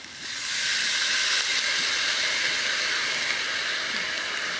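Vinegar poured into a hot pot while cooking adobo gives a loud, close, continuous hiss of steam. It swells within the first second and holds steady to the end.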